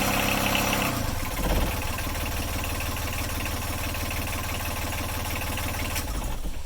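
A Yanmar 3YM30 three-cylinder marine diesel engine runs steadily up close, a loud, even mechanical drone with a rhythmic knock throughout and a brief shift in tone around the first second.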